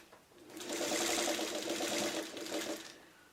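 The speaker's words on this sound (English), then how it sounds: "I'm sewing it upside down." A sewing machine stitches quilt blocks for a mountain flight mystery quilt, running in one steady, rapid burst of close, even needle strokes for about two and a half seconds with no talking.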